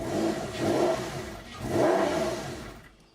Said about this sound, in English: And then if I start it, give it some revs.